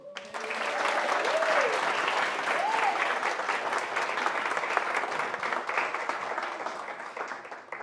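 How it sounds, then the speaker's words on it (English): Sustained, dense round of applause from wedding guests for the maid of honour during the reception speeches, steady and loud for the full stretch, with a few brief voices rising over the clapping. "Can we have a round of applause?"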